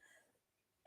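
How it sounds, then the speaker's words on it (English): A single sharp cough bursts in at the very end of an otherwise near-silent stretch, close to the microphone and loud. "Try not to cough down the microphone"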